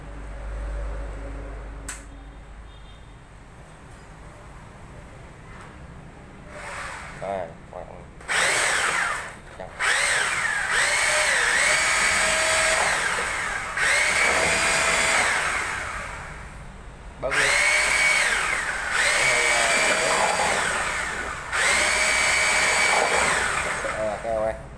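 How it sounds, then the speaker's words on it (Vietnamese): A power drill fitted with a mixing paddle stirs tile adhesive, whining loudly in long bursts that rise and fall in pitch, separated by short pauses and quieter stretches. "Này đang đánh keo các bạn nha, keo máy này như nó cũng không ngon lành như ấy các bạn"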